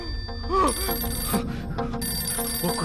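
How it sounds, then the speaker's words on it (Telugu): A telephone ringtone sounds in a scene from a Telugu horror thriller film: steady, bright repeating tones ring for several seconds while voices murmur underneath. "ఎవడో మహానుభావుడు ఫోన్ చేసి ఉంటాడు"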